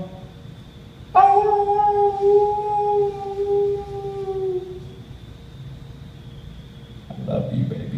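A dog lets out a single long, loud howl close by, holding a steady wavering tone for several seconds before it trails off, followed by a quieter pause and a brief rustle near the end.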